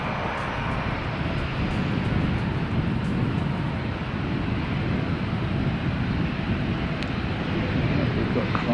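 An EasyJet airliner passes close by with a steady, broad jet roar that holds loud throughout, while a voice speaks over it.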